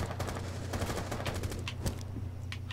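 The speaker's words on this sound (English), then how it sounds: "I think someone's shooting at me." Bursts of gunfire in the Rainbow Six Siege video game during a Terrorist Hunt match, sharp repeated shots at moderate level over a steady background hum, with no voices.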